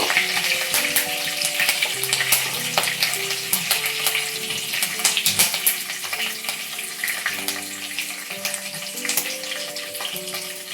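Cumin, curry leaves, cardamom and other whole spices sizzle and crackle in hot oil in a pan, a dense continuous frying hiss with stirring clatter, close and loud, no talking.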